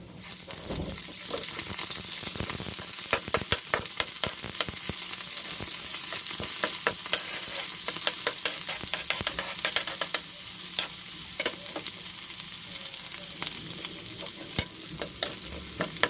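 Minced garlic sautéing in oil as the base of a sweet and sour sauce, a bright steady sizzle broken by frequent scraping stirs of the pan, close and continuous.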